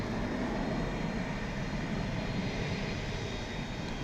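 A steady, moderately distant roar from an airliner at DFW International Airport, one of American Airlines' heritage-livery aircraft, heard alone as an even, unbroken engine rumble.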